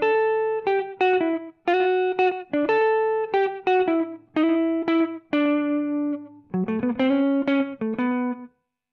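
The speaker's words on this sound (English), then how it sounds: "Here is the sound of the ES-335 in action." Gibson ES-335 hollow-body jazz guitar played through a Roland Jazz Chorus amp, picking out a melody in clean, bright single notes and short phrases, close and clear with brief gaps between phrases.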